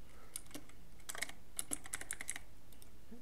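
Quick keystrokes tap on a computer keyboard in a short, uneven burst, close and fairly quiet over faint background hiss.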